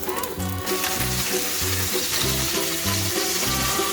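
Seafood from a beach forage sizzles in a pan with butter and oil, a steady close frying hiss running throughout with music-like tonal layers beneath.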